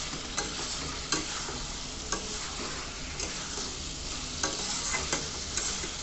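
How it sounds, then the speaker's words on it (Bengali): Tomato and green chilli get stirred into cooked masala for a vegetable curry with beans, aubergine and potato, a dense constant sizzle with regular scraping strokes of a spatula against the pan, close and steady. "এবারে টমেটো আর কাঁচা লঙ্কা দিয়ে আরও একবার ভালো করে সুন্দর করে নাড়াচাড়া করে নিতে হবে।"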